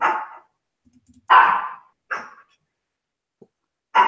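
A dog barks four times, close and loud, in separate sharp woofs spaced unevenly with silent gaps between them.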